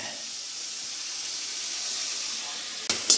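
Soya chunks frying in a pan, giving off a steady, fairly loud sizzling hiss that runs without a break before a brief louder clatter near the end.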